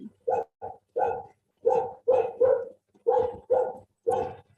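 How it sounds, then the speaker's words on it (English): A dog barks in bursts of loud, fairly close barks, about nine in all, spread unevenly with short silent gaps between them; there is no talk. "your dog is still barking"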